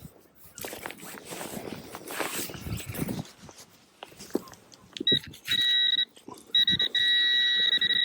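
Metal detector on a beach sounding off over a buried coin: scraping and digging noises, then sustained steady electronic tones that come in near, stop briefly, and return.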